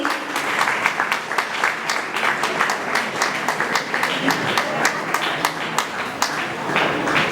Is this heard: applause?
yes